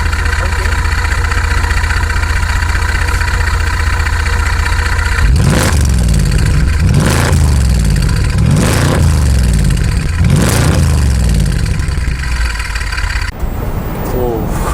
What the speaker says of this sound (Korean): 이제 이 SLK 55AMG 5500cc 8기통 울음소리 한번